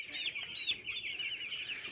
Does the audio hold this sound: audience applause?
no